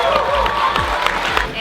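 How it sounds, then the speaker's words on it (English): Audience at a GeekGirlCon 2014 cosplay contest applauds and cheers in a brief, dense burst of clapping and crowd voices. "So a round of applause for making it into the top 3."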